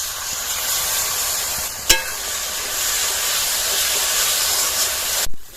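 Spice paste with grated ginger and green chilli paste sizzles in hot oil, a steady close hiss broken by a couple of sharp clinks, with no voices.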